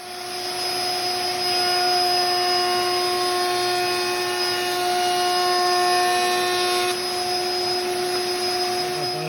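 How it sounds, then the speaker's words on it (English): Router table with a 45-degree bevel bit cutting a board fed right to left, a loud, steady high-pitched whine held throughout with a slight shift in tone near the end and no talking. "To do this properly, I need to feed this board from the right to the left in order to get it in the right position so that the cutters actually are cutting"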